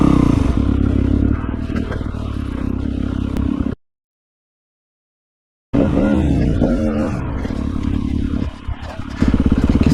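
A 2023 Kove FSE 450 R Rally motorcycle climbs a rough hill, its engine a loud, steady close-up drone. It cuts to complete silence for about two seconds, then returns just as loud and churning.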